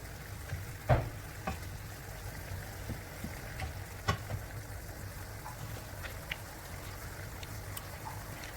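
Pork spare ribs adobo with oyster sauce and bay leaves being stirred in a pan, a soft steady sizzle with a few faint scraping clinks, quiet and close, no talking.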